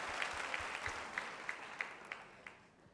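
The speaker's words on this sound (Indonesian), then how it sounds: "Tepuk tangan buat Allah kita." A congregation in a church claps during a sermon. The sound is faint and distant, with scattered individual claps standing out at a loose, even rhythm above a soft wash.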